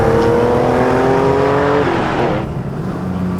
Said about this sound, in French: Ah, cette sonorité moteur.